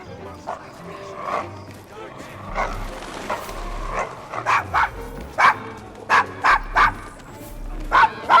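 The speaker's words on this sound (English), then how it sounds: "Is your dog quite all right?" A dog barks in a rough Victorian London slum in Assassin's Creed Syndicate, a run of sharp, loud, close barks and yips with whimpers, following spoken dialogue and ambient street noise.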